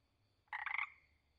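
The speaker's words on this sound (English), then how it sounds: "Tinker reed frog." A tinker reed frog gives a brief burst of quick pulsed notes, clear and close, set against an otherwise quiet background.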